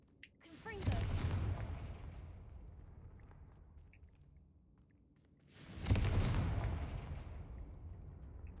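A Confringo fire-blast spell explodes in Hogwarts Legacy, with two loud booming bursts several seconds apart, each striking hard and fading into a long rumbling tail.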